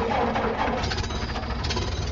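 A 1929 Ford Model A pickup engine cranks and fires using its foot starter, a loud, rough, rapid mechanical clatter running steadily and close throughout.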